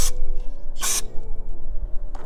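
Two short bursts of carburetor cleaner sprayed inside an engine during bottom end assembly, a quick hiss at the start and a longer one a moment later, close by with quiet mechanical noise between.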